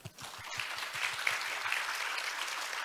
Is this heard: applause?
yes